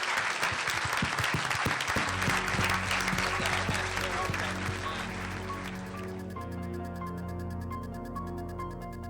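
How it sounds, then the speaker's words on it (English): Loud sustained applause from a convention audience at a Halloween 25th anniversary event, dense clapping that fades slightly midway while steady music tones continue underneath. "Please give Welcome. a huge round of applause."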